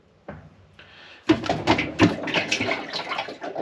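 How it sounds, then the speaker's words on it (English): Water drips and splashes inside the tank of a GE top-load washer with a leaking water solenoid valve, a few soft taps at first, then a denser run of close, irregular drips and trickles. "So water does drip. It drips down, comes down from somewhere around here."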